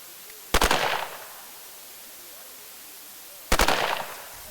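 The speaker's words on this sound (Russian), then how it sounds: "Звук выстрела из автомата разносится далеко за пределы полигона" Two sharp, loud automatic-rifle bursts on a firing range, about three seconds apart, each with a brief echoing tail, quiet in between.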